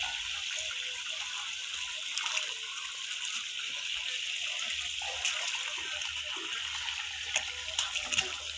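Irrigation water for vegetables rushes and gushes steadily with a continuous hissing splash, faint voices occasionally audible beneath the flow.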